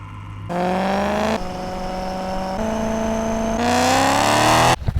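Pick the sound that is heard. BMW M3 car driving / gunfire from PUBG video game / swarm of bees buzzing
BMW M3 car driving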